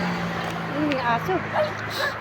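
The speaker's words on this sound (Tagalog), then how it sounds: "May aso." A dog yips and whimpers in short bursts at an outdoor spot with passing vehicles. People talk over it the whole time, and traffic noise runs underneath.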